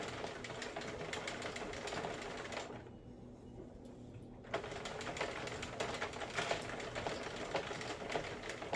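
A Sentro knitting machine knits a neck warmer from sparkly yarn, giving a steady mechanical clatter of rapid ticks that pauses briefly and then resumes, close and fairly quiet, with no talking.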